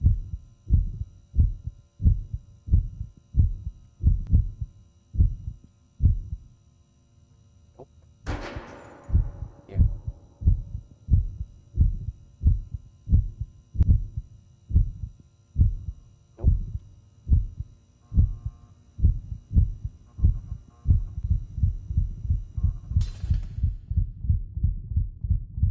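In The Backrooms video game, a heavy rhythmic heartbeat thuds steadily in a close, loud, booming double pulse, pausing briefly and quickening toward the end, with a couple of sharp noisy bursts cutting across.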